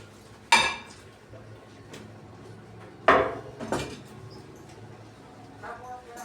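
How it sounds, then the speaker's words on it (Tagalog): Dishes and utensils being washed by hand at home, with two sharp clattering knocks of plates or pots and lighter clinks between them, fairly close against a quiet room. "Kaya maghugas tayo ng plato, yung ating mga pinagagamit"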